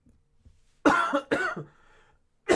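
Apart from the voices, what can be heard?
cough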